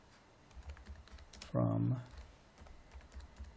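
Clicks from a computer keyboard as someone types a SQL query, a light run of keystrokes around a brief spoken word.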